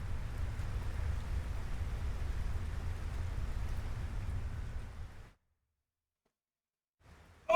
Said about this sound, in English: And suddenly it's raining.